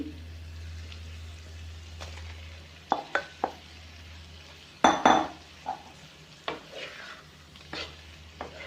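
Crushed paneer is stirred into capsicum and onion in a pan, with a soft sizzle under a series of sharp spoon scrapes and clinks against the pan, a few of them louder, close and without talk.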